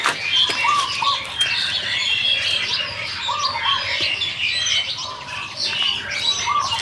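Birds chirp and call throughout in a busy morning chorus in a rural garden and banana grove in Thailand, overlapping tweets and twitters at moderate volume with a soft background hiss.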